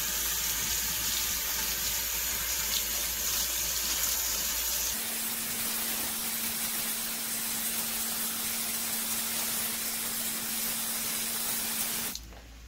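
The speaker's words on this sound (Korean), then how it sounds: "이것도 뜨거운 물에서 씻습니다" Hot water runs steadily from a tap as food is rinsed in a sink, a constant splashing hiss that shifts in tone partway through as the stream hits something different.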